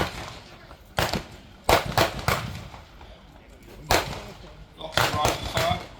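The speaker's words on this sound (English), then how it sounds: "Lots of rifle fire." Rifle fire at a WWI tank battle reenactment during a Tank Fest 2025 display: about eight sharp, scattered shots crack out at irregular intervals, some in quick pairs, fairly close and loud over a faint outdoor background.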